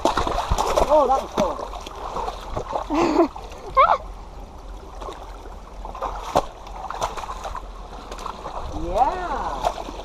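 A small waterfall splashes and gurgles steadily in a creek bed, heard close by beneath people chatting and exclaiming.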